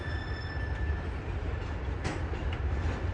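A train rolls along a railroad track on a bridge, a steady loud rumble with a faint metallic squeal and brief clanks, no voices.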